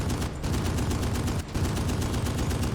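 Machine gun fire in a 1945 WWII beach invasion video game: loud, rapid, evenly spaced bursts rattling close by, with a brief break before the steady stream resumes.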